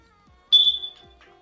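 A smoke alarm gives a single sharp, high electronic chirp about half a second long, close and loud in an otherwise quiet room.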